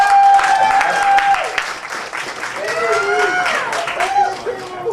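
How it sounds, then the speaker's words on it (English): A crowd gathered for a street performance applauds and claps steadily throughout, a dense continuous wash of hands, while a voice talks over the top at moderate volume. "we just want to give you guys a hand clap for coming out for us"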